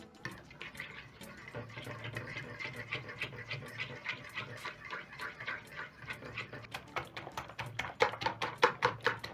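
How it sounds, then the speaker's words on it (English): A fork beats milk into an egg mixture for masala French toast with black pepper and turmeric: soft, quick clinking and sloshing strokes against a bowl, steady at first and then faster and sharper toward the end. "Using a fork, I'm going to mix the milk to combine with the rest of the ingredients"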